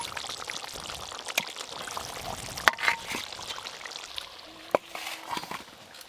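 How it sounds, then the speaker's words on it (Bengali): Chicken gravy for Hyderabadi-style dum biryani pours out steadily with a soft liquid rush, punctuated by a few sharp clinks of a pot or utensil, close by in a home kitchen. "এবার এই গ্রেভিটা ঢেলে নেব"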